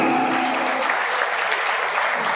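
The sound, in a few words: audience applause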